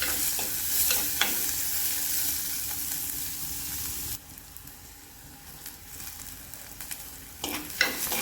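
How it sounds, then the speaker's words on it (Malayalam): Chopped onion sizzling and frying in a pan while being stirred, a steady crackling hiss with scattered scrapes of the spoon; the sizzle drops quieter midway, then a few louder stirring knocks near the end, no voices. "സവാള കൊത്തി അരിഞ്ഞതിടാം. അതൊന്ന് ഇളക്കി കൊടുക്കാം."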